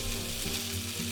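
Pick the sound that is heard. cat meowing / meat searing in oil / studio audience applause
meat searing in oil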